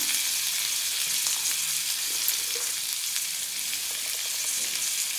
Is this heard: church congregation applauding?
no